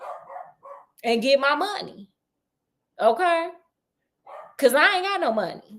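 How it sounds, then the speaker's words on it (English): A dog barks in a few short bursts that mix with and fall between a person's close speech. "that's the dog barking"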